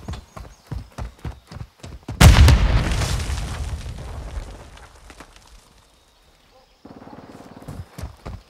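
Frag grenade explosion in Call of Duty: Modern Warfare II: a sudden loud boom rolling out over a few seconds between repeated rhythmic footstep-like clops, ending in quiet then more footfalls.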